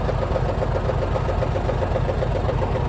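A tractor engine runs steadily and close for about three seconds, a dense continuous mechanical drone with no breaks and no talking.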